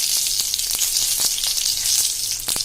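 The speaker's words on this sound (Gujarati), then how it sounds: "અને હવે આને આપણે સેજ વઘાર ખાવા દેશું" Dry red chillies, five or six curry leaves and a quarter teaspoon of hing crackle in hot oil for a tempering, a steady loud sizzle with sharp pops scattered throughout.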